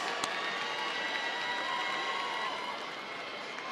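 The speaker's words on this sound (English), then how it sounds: "Let's give them a Southern University round of applause." A large graduation commencement crowd at Southern University and A&M College applauding and cheering in a steady, dense wash of clapping that fades slightly toward the end.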